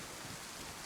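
Steady rain hisses in the survival game DayZ, a dense, even wash of drops that fills the short stretch with no voices.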